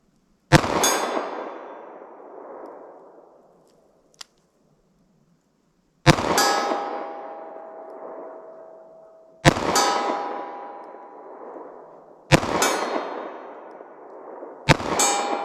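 A short-barrel revolver fires Federal Hydra-Shok .45 ACP rounds outdoors, five sharp loud shots a few seconds apart, each ringing out with a long fading echo.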